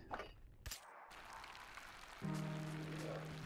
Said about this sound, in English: 'Tis raining now.